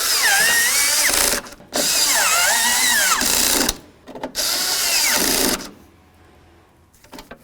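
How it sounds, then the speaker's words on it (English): A power drill drives latch bolts into a door on a 1988-2002 GMC Sierra 1500 with loud whirring runs that rise and fall in pitch, three bursts with short pauses and a quieter tail at the end. "let's just go ahead and start in these bolts for the latch"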